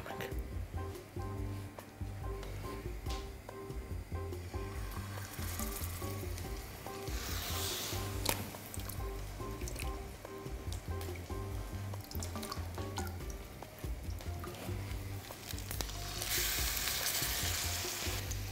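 Beregh, a Georgian-Armenian pastry, frying in oil on both sides: a loud, continuous sizzle with occasional bursts of crackling and spattering, and some brief talk in between.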